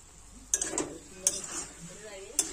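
Elephant foot yam curry stirred in a pan, a low sizzle underneath with a few sharp clinks of a metal spoon against the pan, close by and with no talking.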